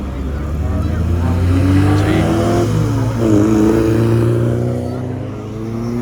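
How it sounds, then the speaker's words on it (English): A vintage car on a road run passes close by, its engine loud and revving with rising and falling pitch, and a voice speaks over the sound. "Here's the first vintage car here."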